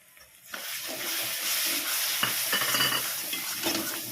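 Masala for a chor chingri (shrimp) curry being stirred in a hot pan: a steady oily sizzle with repeated spatula scrapes, close and fairly loud, with no voices.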